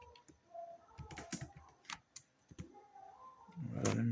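Commands typed on a computer keyboard, close and fairly quiet, with irregular bursts of key clicks and short pauses between them.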